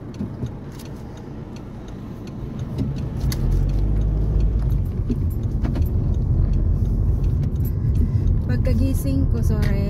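A car driven on a road hums with steady engine and tyre rumble that swells louder after a few seconds, with light rattles and clicks inside the cabin and occasional speech over it.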